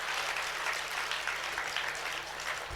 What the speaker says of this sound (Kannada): ಅವ್ರಿಗೂ ಜೋರು ಚಪ್ಪಾಳೆ ತಡ್ರಿ.